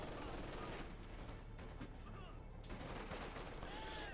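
Anti-tank gun fire in Company of Heroes 2, a World War II strategy game battle, with dense rolling gunfire and booms mixed into continuous battlefield noise under a commentator's voice.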